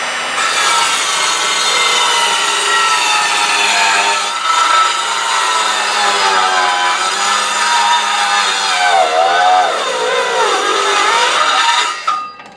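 A cordless saw grinds steadily through wood for several seconds, loud and close, its pitch sagging and wavering near the end as the dying battery slows the motor until it cuts out.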